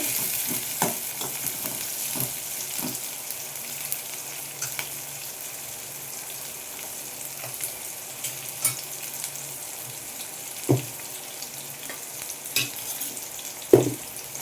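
Brinjal fries in a pan with a continuous soft sizzle, broken by occasional scraping stirs and a couple of louder spatula knocks.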